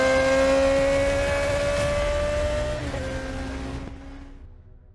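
A tuned motorcycle engine on a mechanic's bench is revved high and held at a loud, steady whine, then drops away and cuts off abruptly near the end.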